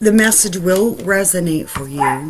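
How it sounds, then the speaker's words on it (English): A small puppy barks and yips repeatedly and fairly close, overlapping with a person speaking steadily throughout. "You may hear my next door neighbor. He has a dog."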